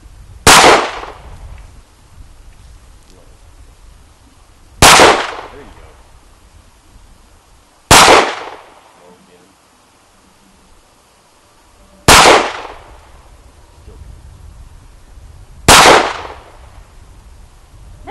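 Five sharp, loud Sig Sauer P938 pistol shots fired at a range target, spaced a few seconds apart, each a hard crack with a short ringing decay over low background noise.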